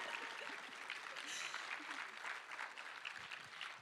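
An audience at an evening celebration applauds in a continuous, even patter of many hands, fairly quiet and heard at some distance, with a few voices faintly mixed in.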